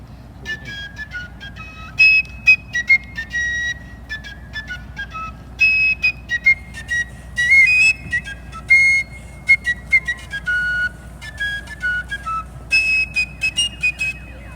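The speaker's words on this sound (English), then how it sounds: "8 minutes of fife and drum while you're trying to sleep" Fife music at a Civil War reenactment at Olustee Battlefield: a loud, shrill, piping melody played in short bursts and phrases separated by brief gaps. Any drumming stays faint beneath the fife, and no one talks.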